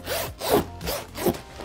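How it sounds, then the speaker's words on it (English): A zipper being zipped up, heard as two quick rasping zips in succession, close and fairly loud with no voices. "people began calling them zippers because of the sound they made when they were zipping up"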